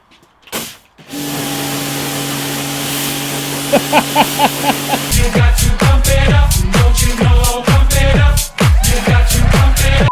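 A pressure washer's motor starts and drones steadily, then its loud spray pulses in rapid repeated bursts against a car, close by with no talking.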